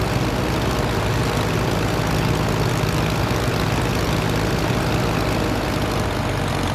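A propeller aircraft engine in the Prepar3d flight simulator game drones steadily on landing approach, a continuous loud low hum with no talk over it.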